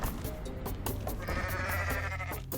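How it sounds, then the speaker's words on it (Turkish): A goat in the video game Goat Simulator gives a deep, thick bleat, loud and close, followed by another bleat, with no talk over it. "Bu arada bu keçinin şeyi çok güzel bakın sesi. Dinleteyim ve çok kalın böyle."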